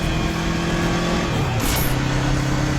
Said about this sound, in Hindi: ये कैसा शोर है? प्रसाद बाबू बाइक लेकर निकल गए हैं।